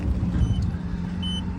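A 2001 BMW 330i M-Sport engine idling with loose mass air meter wires, a steady close motor hum with faint high beeping from tire pressure monitors near the end.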